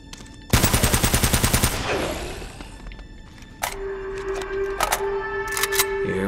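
Rapid automatic gunfire from the video game Uncharted: Drake's Fortune, a loud sustained burst lasting over a second, followed by a pause and a few more scattered shots over a humming background.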